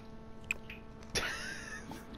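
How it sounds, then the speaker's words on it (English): Someone bites into a fish taco with a sharp, wet crunch, heard close and quiet. Soft moist chewing follows in a still room. "The crunch. Wet slapping noises."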